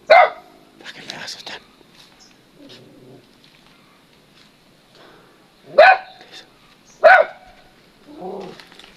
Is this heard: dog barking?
yes